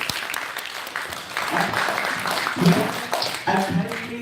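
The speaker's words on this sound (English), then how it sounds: "let's give up one more applause for all the speakers" A youth symposium audience claps for the speakers, moderately loud applause with voices talking over it in the room.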